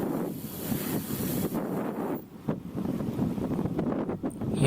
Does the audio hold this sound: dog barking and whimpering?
no